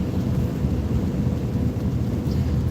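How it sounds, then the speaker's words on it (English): Rain falls steadily on a car, heard from inside the cabin as a constant, dense wash with a heavy low rumble throughout and no talking. "looks like the rain is getting a little lighter here"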